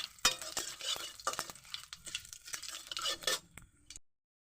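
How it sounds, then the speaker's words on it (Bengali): Bay leaves, dried red chilies and cumin seeds fry in a little oil in a wok while a spatula stirs and scrapes, with light sizzling and repeated metallic clinks close by, ending in silence. "এবার ভালো করে নাড়িয়ে ছিড়িয়ে ভেজে নেব।"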